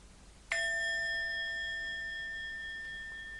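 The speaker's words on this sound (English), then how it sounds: "The sound of the bell," A single bell struck once, its clear ringing tone holding steady and slowly fading over several seconds in a quiet setting.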